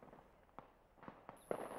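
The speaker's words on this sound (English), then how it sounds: "gunfire can be heard about 100 meters from the hotel we're staying in" Distant gunfire at night during a curfew in Nepal, about 100 meters away: a few sharp, isolated cracks spaced irregularly across a quiet background, the last one slightly louder.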